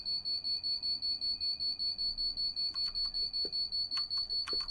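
A driver vigilance alarm in Train Simulator 2021 beeps steadily and rapidly in an even rhythm throughout, high-pitched and insistent, with faint clicks and knocks in the background.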